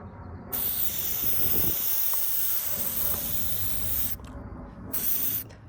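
Steady hiss of a spray can spraying coating onto a car headlight continuously for several seconds, briefly pausing near the end before resuming, close by.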